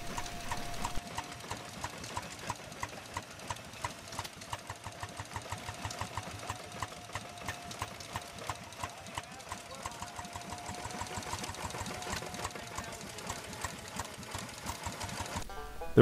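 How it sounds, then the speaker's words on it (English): Antique Briggs 805 Road King four-cylinder engine running at an engine show, a quiet, steady rapid ticking beat with sharp regular clicks, heard from a short distance over faint background murmur. "Here's the famous 805 Road King 4-cylinder Briggs engine."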